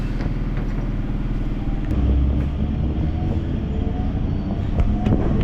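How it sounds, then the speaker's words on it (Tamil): A suburban electric train on the Velachery to Park elevated line stops at Light House railway station. A steady, close, heavy rumble and rattle of wheels and carriages shifts partway through and carries on continuously, with no talking. "இப்போ train நிற்கிறதாங்க light house railway station"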